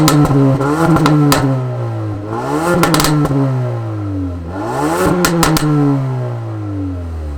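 Hyundai i30N or Ford Focus ST hot hatch engine revving under acceleration, loud induction roar climbing through the gears in three rising sweeps with clattering pops between shifts, no talking.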